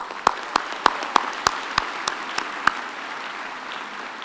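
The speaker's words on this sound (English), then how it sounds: "I think we can give him also a hand of applause." Sparse clapping at a university graduation ceremony: about nine sharp, evenly spaced claps ring out in a quiet hall before dying away.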